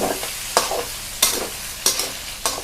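Eggplant stir-frying in a small amount of oil, with a steady sizzle broken by four or five rhythmic scraping strokes of a spatula against the pan, close up and with no talking.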